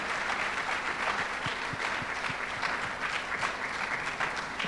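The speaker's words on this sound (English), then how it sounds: "जोरदार टाळ्या वाजवूयात" Congregation applause at a Sunday church service in Pune, honouring a child's abacus competition award; steady, dense clapping fills the room throughout, loud and continuous with faint voices beneath.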